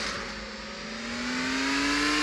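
Lamborghini Veneno engine in the game Car Simulator 2, a loud steady rev with a smoothly rising pitch as it accelerates, alone without talk.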